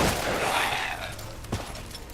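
Gunfire in Resident Evil Village sounds as a burst of shots against a rumbling game backdrop, with one sharp, punchy report standing out late in the moment.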